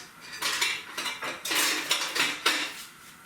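Metal cutlery and utensils rummaged through in a kitchen drawer while hunting for a wooden spoon, a quick series of close clinks and rattles in bursts with short pauses.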